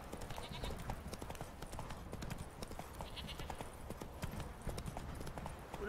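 Rapid, rhythmic hoofbeats of a horse galloping in The Witcher 3, a steady clip-clop running the whole time at a fairly close, even level with no talk over it.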